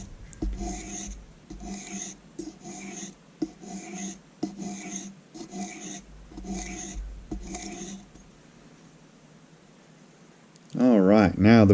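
Paring knife sharpening strokes, a run of about ten even, rhythmic rasping passes of the blade against the stone, fairly close and moderately loud, followed by a brief louder burst at the end.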